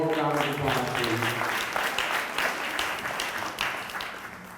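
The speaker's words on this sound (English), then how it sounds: "give them a warm round of applause, please" Applause from an audience at a Communities in Schools honors gala: steady, moderately loud clapping that slowly fades over a few seconds, with faint voices beneath it.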